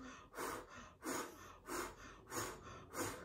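A voice imitates labour breathing during a home birth: six rhythmic, forceful breathy puffs at steady intervals, close and loud, with no other talk.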